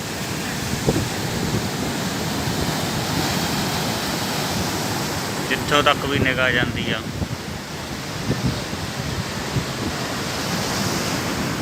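Sea waves wash along a Bali beach near Tanah Lot temple in a steady broadband roar with wind, while someone speaks briefly midway over the surf.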